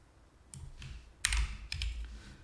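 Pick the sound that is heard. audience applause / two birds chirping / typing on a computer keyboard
typing on a computer keyboard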